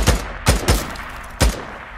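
Gunfire from the Days Gone video game, four sharp shots in a loose, uneven burst spread across two seconds, close and punchy against a low rumbling background.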